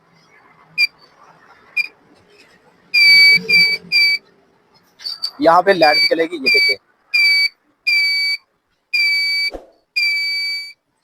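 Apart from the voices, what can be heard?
buzzer of a homemade power tester sounding after button press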